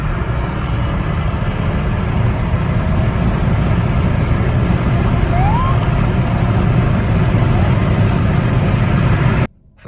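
A VW Jetta floored on the highway, with a steady, loud engine drone and road roar filling the cabin, constant throughout before cutting off abruptly at the end.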